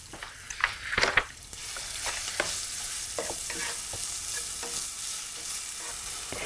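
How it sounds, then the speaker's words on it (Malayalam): Crushed shallots and salt sautéing in hot coconut oil for a beetroot dish, a steady close sizzle with scraping stirs and a few louder clatters near the start. "ചൂടായി കഴിയുമ്പോൾ ഇതിലോട്ട് നമ്മൾ ചതച്ചു വച്ചിരിക്കുന്ന ചെറിയ ഉള്ളി, ആവശ്യത്തിന് ഉപ്പ് എന്നിവയിട്ട് വഴറ്റുക."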